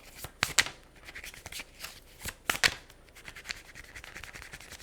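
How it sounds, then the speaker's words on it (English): Tarot cards are shuffled close by in quick riffling bursts, two sharper riffles standing out among softer sliding and tapping, with no talking. "What's with all the shuffling? Hello? It's a tarot reading."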